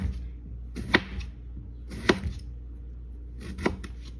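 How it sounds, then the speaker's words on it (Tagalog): A knife cuts potato into round slices on a cutting board, three distinct sharp chops spaced about a second apart, close and crisp over a quiet background. "gagayatin ko lang siya ng circle"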